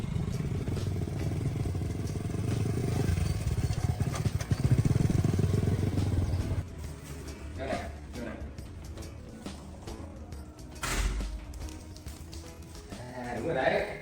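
A motorbike rumbles steadily up close during a family ride home, its engine drone strong for several seconds before dropping off. Handling noises and clatter follow, and people talk throughout.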